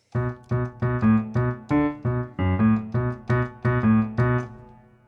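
A short bass piano figure of repeated low notes, each struck separately in a steady rhythm, played alone and fairly loud.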